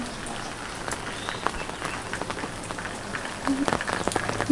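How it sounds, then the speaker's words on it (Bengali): Heavy rain pouring outside a rural home during a wet day, a dense continuous patter and splashing on surfaces, with scattered louder drips and faint background sounds, steady throughout. "দেখুন বাইরে কত বৃষ্টি হচ্ছে"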